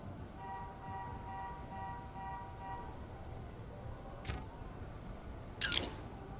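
A camera shutter fires in the video game inFAMOUS: Second Son, two sharp, brief clicks a little over a second apart, standing out over a low, steady background hum.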